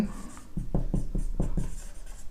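Pen or chalk writing out a sentence, a quick series of rhythmic scratchy strokes close up over steady room noise.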